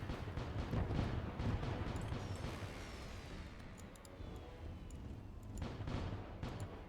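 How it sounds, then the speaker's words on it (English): Deep rumbling booms of broadside cannon fire in a space video game roll together in a dense, low barrage, fading slightly before another burst near the end. "use our broadside cannons."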